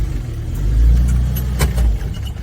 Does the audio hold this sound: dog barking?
no